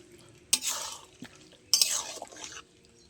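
A spoon stirs ghee into a mixed vegetable curry in a pan, two close, wet scraping sweeps with a soft sizzle between them.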